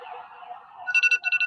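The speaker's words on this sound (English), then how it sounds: "That's the ambulance going to" An ambulance siren, heard at first as a steady wavering tone and then breaking into rapid rhythmic high-pitched pulses, fairly close and loud, with no talk over it.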